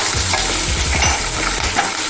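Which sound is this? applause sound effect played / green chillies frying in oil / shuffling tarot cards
green chillies frying in oil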